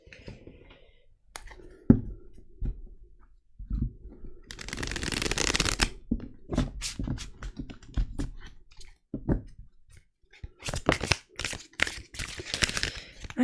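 Oracle cards are shuffled by hand up close in several riffling bursts, with soft slaps, clicks and quiet pauses between handlings, alone without talk.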